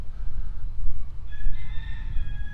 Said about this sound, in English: There's a rooster.